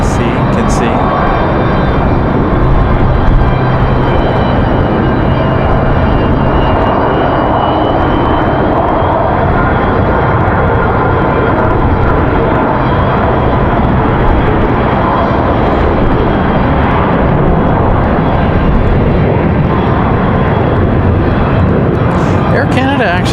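A jet airliner departs for Toronto in strong wind at Raleigh-Durham airport, its engines giving a loud, sustained roar that holds steady through the whole stretch, with gusty wind noise mixed in.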